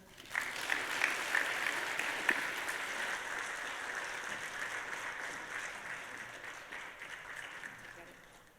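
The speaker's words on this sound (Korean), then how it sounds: "우리 다시 한번 뜨거운 박수 보내주시면 감사하겠습니다" A church congregation applauds warmly, a steady dense clapping that swells early and slowly fades over several seconds, heard from within the sanctuary.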